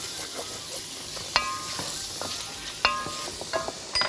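Chicken pieces and garlic cloves cook in a pot for pumpkin soup, with a soft, steady sizzle broken by a few sharp metallic clinks of a spoon against the pot. No voices.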